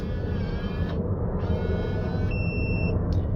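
An ApeStellar electronic door lock emits high electronic beeps and a short steady tone over a constant low rumble, several close tones in quick succession.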